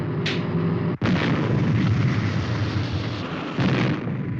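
A weapon fires on command in a puppet show sound effect, a heavy booming blast that cuts in abruptly and rumbles on as a sustained roar, loud and alone without talk.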